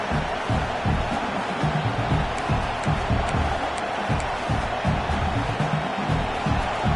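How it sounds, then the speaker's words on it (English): Stadium crowd roaring in the NCAA 26 college football video game: a dense, steady wall of cheering that holds at full volume for the whole stretch without any clear breaks. "This crowd, full throat, spreading the eardrums and letting them know it's going to be a long day"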